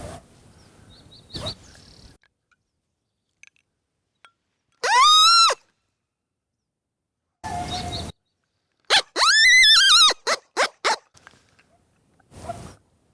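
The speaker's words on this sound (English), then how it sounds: "I got a coyote answering." Out on the open land, a couple of loud, close bursts of a predator call wail, answered by a coyote's rising yips and howls, a few quick barks in a cluster, with silence between.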